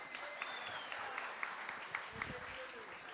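Studio audience on a Turkish TV broadcast claps softly at a distance, a faint, even patter with a voice talking over it.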